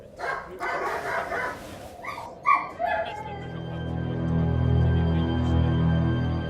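A dog lets out a few high whimpering yips, followed by a sustained low rumbling tone that swells gradually.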